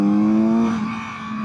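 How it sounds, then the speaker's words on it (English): A Kawasaki Z900RS inline four-cylinder motorcycle engine gives a smooth, loud rev blip that rises then settles back toward idle, heard up close with no talking. "you barely gotta touch the throttle to blip it for that rev match"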